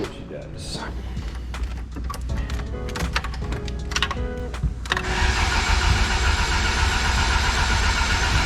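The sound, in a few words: car engine cranking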